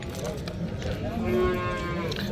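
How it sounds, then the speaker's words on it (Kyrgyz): A cow moos at a livestock market in Jalal-Abad, a single long, fairly close low call rising over background crowd murmur. "Мына туугандар, ушул уй жакшы уй экен."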